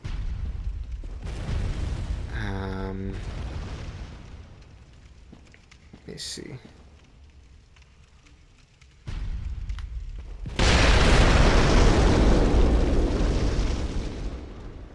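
Cannon blasts and booming explosions go off in the video game Bloodborne during a Chalice Dungeon fight, with several sharp bursts and a loud, sustained rumbling roar near the end, while someone briefly talks.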